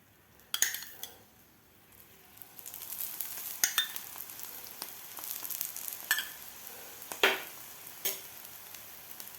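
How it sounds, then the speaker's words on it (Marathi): A mixed vegetable paratha roasts in ghee on a pan with a soft, continuous sizzle, punctuated by several sharp clinks and scrapes of a spatula against the metal as it is flipped and pressed. "तर दोन्ही साईडकडून असं चांगला व्यवस्थित पराठा भाजून घ्यायचा"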